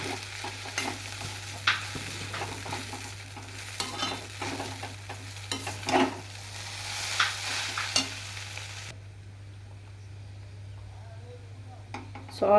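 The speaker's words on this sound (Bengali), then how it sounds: "ভালো করে আমি আবার নেড়ে চেড়ে নেব" Egg chow mein stirred and tossed in a frying pan, with soft scraping and light sizzling in irregular bursts close by, over a steady low hum; the stirring stops near the end, leaving quiet room tone.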